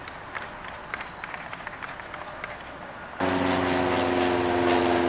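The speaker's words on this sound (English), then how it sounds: "It buzzed us pretty low, a little small, little biplane." A small biplane flies low overhead at a disc golf course, its propeller engine a steady, loud drone that swells abruptly partway through and holds over outdoor ambience.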